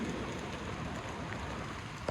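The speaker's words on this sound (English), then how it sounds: "it's raining pretty decent" Steady rain falling outdoors on a hiking trail near a landslide, a dense even hiss of drops filling the whole moment with no voices, moderately loud and unbroken.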